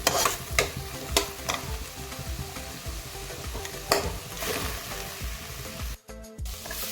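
Fenugreek leaves fry in hot oil in a pan while a spoon stirs them, a steady close sizzle broken by sharp scraping knocks of the spoon, no talk.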